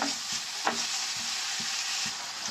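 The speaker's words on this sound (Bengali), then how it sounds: "এখন মরিচ দিয়ে মশলাটা ভালো করে কষিয়ে নেব" Spice paste with chili stir-fried in a pan for a village-style banana flower and taki fish mash, a steady close sizzle broken by regular scraping strokes of a spatula, with no talking.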